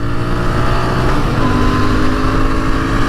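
A Royal Enfield Interceptor 650 motorcycle engine drones loud and close as it pulls through the gears, a dense, sustained roar with steady harmonic tones.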